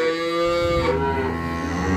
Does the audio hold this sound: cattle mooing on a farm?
yes